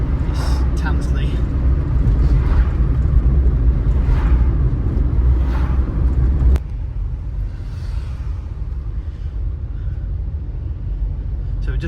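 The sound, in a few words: road traffic passing in Matlock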